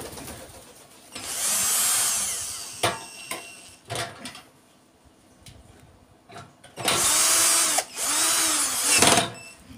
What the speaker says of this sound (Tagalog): Gamitan na po natin ng hand drill para po mabilis.